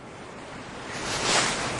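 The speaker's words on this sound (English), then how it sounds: "So let's take and pour this sugar right into this cup." Granulated sugar pours in a steady rising hiss into a cup, a continuous grainy rush that swells louder toward the end, with no voices.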